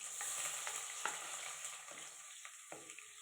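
Onions fry in hot oil in a pan, a soft crackling sizzle with scattered pops and stirring scrapes, fairly quiet and close.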